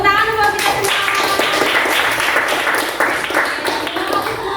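Many hands clapping together in a classroom in a steady, dense burst of applause from a group nearby, with voices mixed in.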